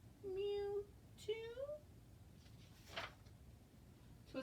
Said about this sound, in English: And Kitty said, mew, too?